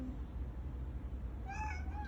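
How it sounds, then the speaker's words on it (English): A cat gives a short, faint meow near the end over a low background hum. "I saw this cat outside my gate."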